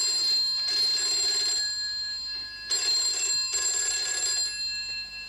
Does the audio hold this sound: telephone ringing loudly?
yes